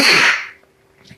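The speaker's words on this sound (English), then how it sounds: "I think I'm going to sneeze" A single loud, close sneeze bursts out and fades quickly, followed by quiet and a few faint small sounds.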